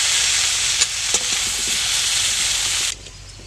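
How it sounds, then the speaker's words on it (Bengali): Winter vegetables fry in a pan for khichuri with a loud, continuous sizzle. A couple of brief stirring knocks cut through before the sizzle drops away abruptly near the end. "সবজিটা একটু লাল লাল করে ভেজে নিতে হবে"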